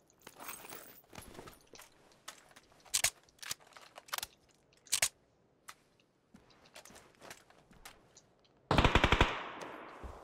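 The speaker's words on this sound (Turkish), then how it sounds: "Ha, bunlar birbirlerine de sıkıyorlar." Gunfire in the PUBG battle royale game: scattered single shots and short bursts crackle at varying distances, ending in a loud, dense close-range volley near the end.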